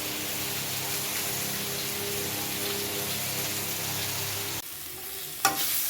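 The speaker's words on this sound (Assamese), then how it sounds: "এয়া সিজাই লোৱা ঔটেঙা আৰু আলু এনেদৰে ভাজি লৈছোঁ" Boiled elephant apple and potatoes sizzle steadily in a pan with a constant crackling hiss that drops away near the end, followed by a brief clatter.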